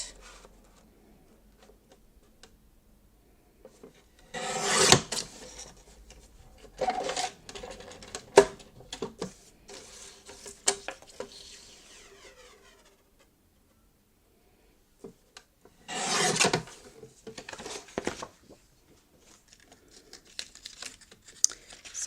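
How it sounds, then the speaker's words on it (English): A 6x8 piece of card is cut for a shadow box craft, with crisp crinkling, tearing-like swishes and small clicks in scattered bursts, close and moderately loud, with quiet gaps between. "I'm cutting another 6x8 piece of card."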